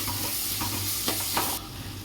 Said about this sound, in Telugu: ఇప్పుడు 2 స్పూన్ల అల్లం వెల్లుల్లి పేస్ట్ వేసుకొని బాగా ఫ్రై చేసుకోవాలండి